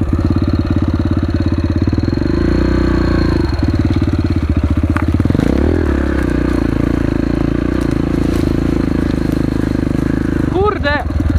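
A motorcycle with a slipping chain, in need of a new sprocket, runs loudly and continuously while being ridden, a steady close engine drone with shifts in pitch and a brief clatter near the end.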